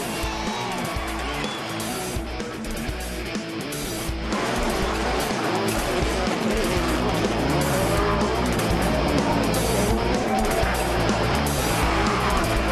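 Enduro X motorcycle racing crowd and engine roar blend with a car spinning donuts, tires skidding and engine revving steadily throughout, loud and continuous, stronger after a few seconds.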